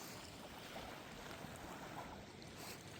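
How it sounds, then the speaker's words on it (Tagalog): Small waves wash steadily onto the shore of a lake at a provincial park campground in spring, a continuous close, soft surf hiss with light wind noise on the microphone and no voices. "Pakinggan natin yung alon ng tubig."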